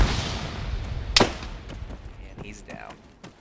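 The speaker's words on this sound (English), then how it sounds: "In the meantime, I get shot at by his teammate." In the video game Arma 3, a single sharp gunshot cracks out near the middle, followed by fainter shots and gunfight noise in the background.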